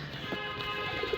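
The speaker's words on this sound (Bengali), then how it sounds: "দেখুন কবুতর, এখানে কয়েকটা কবুতর আছে" A few pigeons cooing softly nearby, short low coos over faint background noise.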